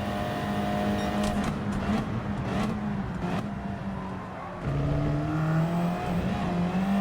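A car engine in the Gran Turismo racing game drops down to second gear under engine braking, its tone stepping down in pitch, then pulling back up toward third on corner exit, loud and continuous.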